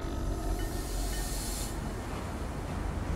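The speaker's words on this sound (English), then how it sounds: "Train cart, with the train." A train rolls along in the video game Unforetold: Witchstone, a steady hissing rumble of rail travel that stays even and continuous, with no voices over it.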